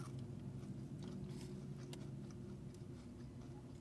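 Crunchy food from a burger place is bitten and chewed close to the mic, quiet crisp crackles in an irregular rhythm over a low steady background hum.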